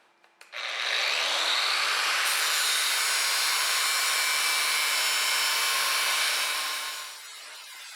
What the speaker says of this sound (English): An assortment of angle and die grinders were used to clean the mill scale off the steel